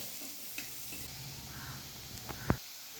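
Onions frying in oil in a kadai give a steady, close sizzle, with a few stirring scrapes and a sharp clack of the spoon near the end.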